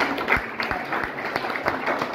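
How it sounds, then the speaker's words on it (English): Applause from the audience at a teachers' book club gathering, a dense wash of many hands clapping at moderate distance, steady throughout with a few sharper claps standing out. "Round of applause."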